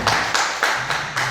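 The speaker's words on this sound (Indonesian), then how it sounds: "Sekali lagi tepuk tangan untuk kita semua" Teachers in a discussion session at SMKN 1 Mojokerto clap together in steady unison, about five evenly spaced, moderately loud claps in just over a second.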